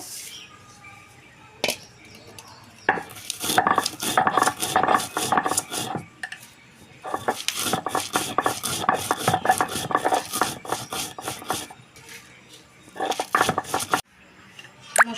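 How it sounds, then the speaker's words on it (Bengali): Whole spices being pounded and ground by hand for an olive pickle, giving bursts of rapid rhythmic knocking and scraping, moderately loud and close, with short pauses between grinding spells. "আমি গোটা মশলাগুলো বেটে নেবো"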